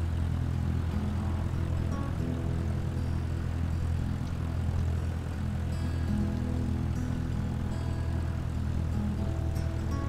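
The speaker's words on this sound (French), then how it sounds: "il y a des avions qui vont atterrir" Airplanes coming in to land in Microsoft Flight Simulator 2020, a steady loud propeller-engine drone with a low rumbling hum that holds throughout with no talk.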